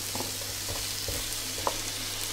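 Courgette slices cooking gently in a pan for a courgette cake, a continuous soft sizzle with light stirring taps, close and even, no speech.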